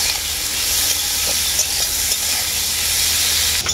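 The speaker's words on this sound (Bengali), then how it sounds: "সব কিছু একসাথে খুব ভালো করে ভাজতে থাকবো।" Cut flat beans frying with salt and a little turmeric in a pan, a steady close sizzle with scraping stirring strokes scattered through it, no talking.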